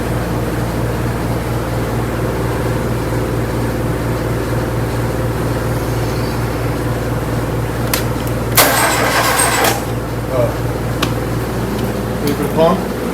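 A freshly built VW Type 1 2165cc high-performance engine starts for the first time, a steady close engine drone running throughout with a louder surge and crackling burst near the end.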